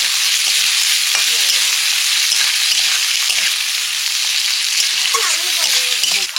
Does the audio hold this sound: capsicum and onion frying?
yes